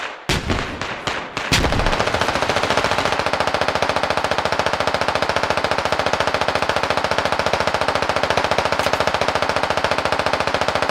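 An assault rifle is mag-dumped in a team shooter match on Fools Road: a few loose opening shots, then a long, steady, loud stream of rapid automatic fire for about nine seconds.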